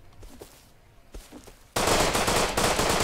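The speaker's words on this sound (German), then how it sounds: "schießen noch von oben" Dense automatic gunfire from the survival video game Rust bursts in loud and sustained halfway through, following quieter scattered shots and game sounds.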